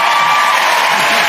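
A studio audience at a panel show applauds and cheers, a loud, even wash of clapping and whoops filling the short moment.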